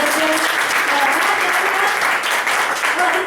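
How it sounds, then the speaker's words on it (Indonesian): An audience at a Prudential event claps loudly in a continuous, even burst of applause, with crowd voices faintly mixed in. "Kasih tepuk tangan dong buat Prudential."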